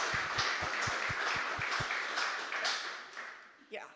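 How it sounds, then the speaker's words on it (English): Audience applause for conference sponsors at the Cloud Native Rejekts EU 24 event, a steady moderately loud wash of clapping that thins and fades toward the end. "So a huge round of applause to our sponsors."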